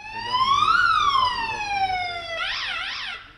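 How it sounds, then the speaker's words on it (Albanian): A police car siren wails loud and close, its tone sweeping up and down before breaking into a rapid warbling yelp, during a special forces police operation in Pristina's Velani neighbourhood. "Kur bie sirena policore, paralajmërohet lëvizja kryesore."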